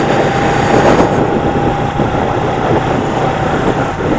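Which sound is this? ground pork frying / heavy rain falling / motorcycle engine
motorcycle engine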